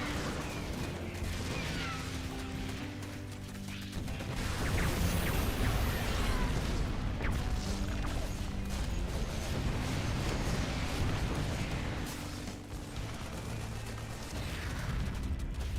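Gunfire and explosions in StarCraft II as Terran supply depots, a tower and a bunker are shot and destroyed, forming a dense, continuous battle din of rapid firing and mechanical crashes that holds steady and loud throughout.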